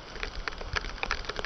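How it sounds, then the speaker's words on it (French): Rain starting again in the Amazon rainforest: a short stretch of irregular pattering drops on leaves and surfaces, dense and close, with no talking. "Et il se remet à pleuvoir."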